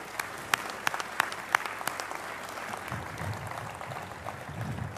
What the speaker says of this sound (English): we just ask that we give a round of applause for their work